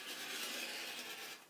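A sharp blade trims fabric for a pleated cushion down to size, giving a steady, close rasping and rubbing that runs without a break for about a second and a half before tapering off at the end.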